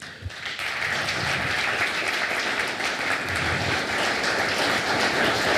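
An audience in a church gathering applauding a visiting pastor after his talk, a dense sustained round of clapping from many hands, loud and even from start to finish.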